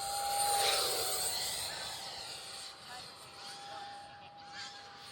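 A 50mm electric ducted fan RC jet, an Arrows Hobby Avanti or BAe Hawk, flies overhead with a thin, steady high-pitched whine and airy rush that swells and then fades slightly as it passes.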